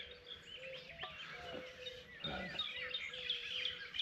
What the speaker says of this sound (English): Birds are making a lot of noise this morning.